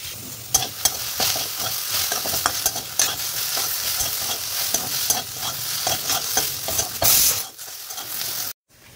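Food frying in a little oil in a pan, a steady close sizzle broken by frequent scraping stirs and light clinks, cutting out briefly near the end.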